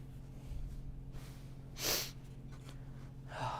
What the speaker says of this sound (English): As I sniffle.